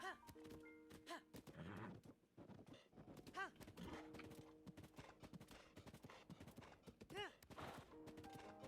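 Horse hooves clop in Zelda: Breath of the Wild, a steady trotting rhythm of hoof strikes repeating through the whole stretch at low level, with other game sounds around them.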